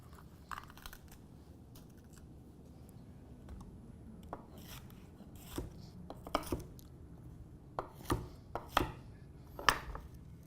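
Half a green pepper being chopped with a knife on a cutting board, a series of crisp, close knocks and crunches, sparse at first and then quicker and more irregular.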